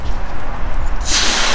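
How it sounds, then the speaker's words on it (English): A short hissing burst of liquid sprayed onto car paint, beginning after a moment of low background rumble and continuing bright and close to the end, with no talking. "Spray it."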